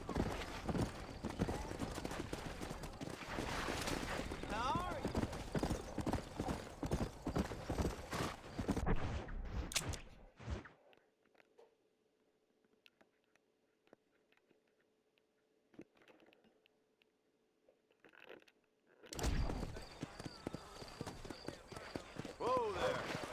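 Horse hooves clip-clop at a steady trot in Red Dead Redemption 2, mixed with voices and other game sounds, then fall nearly silent for several seconds before the busy hoofbeats and talk resume.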